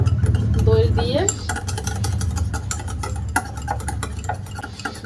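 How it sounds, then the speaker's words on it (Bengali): Yogurt starter (doi) is beaten hard in a bowl with a whisk, giving a brisk, continuous clatter and scrape against the bowl, close up and fairly loud, with a low mechanical hum running underneath. "এবার আমি একটু দইয়ের বীজ বানিয়ে নেব এভাবে বেশ ভালো করে ফেটিয়ে নেবো"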